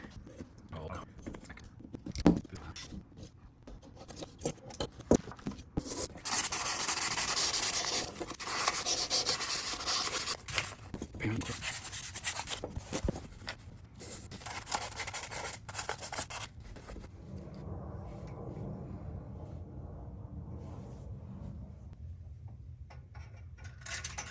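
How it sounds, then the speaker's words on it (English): Close, uneven scraping and rubbing as an old carburetor gasket surface on a GX390 engine is cleaned, rough strokes coming in bursts with occasional ticks, fading to quieter rustling later. "So we're just gonna put the new carb on, but I've got to clean this gasket first."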